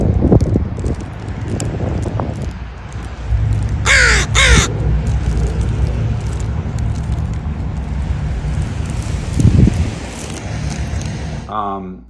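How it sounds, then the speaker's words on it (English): Crows caw by the ocean at a Seattle park, with one prominent burst of close, harsh caws in the middle and others fainter and farther off, over wind and rustling background noise. "The seagulls, the crows, the sparrows down by the ocean at the park here in Seattle."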